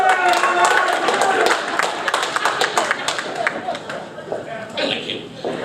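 A live audience breaks into applause, a dense, steady wash of many hands clapping with cheers and crowd chatter mixed in, fading slightly toward the end.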